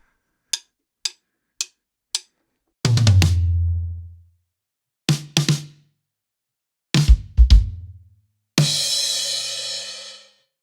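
Four quick stick clicks count in, then a drum kit plays a short phrase of kicks and snare hits, ending on a ringing crash cymbal.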